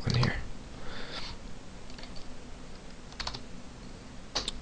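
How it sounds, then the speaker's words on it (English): Fingers type on a computer keyboard during a Dreamweaver forms tutorial, giving scattered close clicks and short bursts of keystrokes, with a voice speaking quietly in the background. "I'm going to type username with a colon here."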